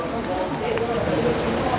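Steady rain patters across the whole stretch as a soft, even hiss, fairly close and unbroken, with a faint murmur of voices underneath.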